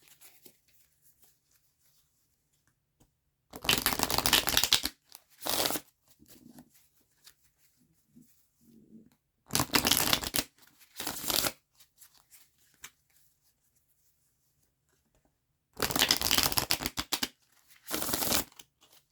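Tarot cards are riffle-shuffled in three rounds, each a crisp fluttering burst and a brief second snap, with soft handling noises in the gaps.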